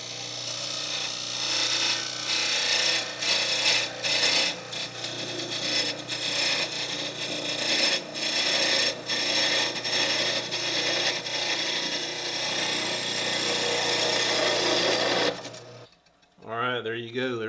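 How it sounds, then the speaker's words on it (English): Wooden Christmas tree being parted off on a lathe: a steady mechanical whir with rapid ratcheting chatter and scraping cuts runs close and loud for about fifteen seconds, then stops abruptly, leaving a brief quiet tail. "the next thing I'm going to do is part the tree off"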